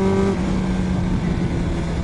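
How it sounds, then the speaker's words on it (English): A loud Kawasaki motorcycle roars close by while being ridden, its engine note briefly revving and then falling in pitch over about two seconds, with no speech. "I really like to ride with this Kawasaki. And the noise. I mean, this is so fucking loud bike."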